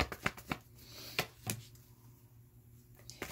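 A few sharp tarot card-shuffling snaps, close by, spaced out with quiet gaps between them.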